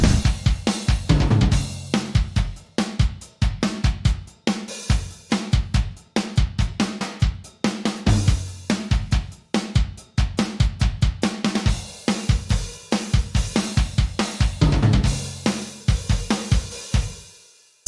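A rock drum kit with big, roomy toms plays in a full mix, with busy, punchy hits and fills pounding steadily throughout, loud and bright, with no voices.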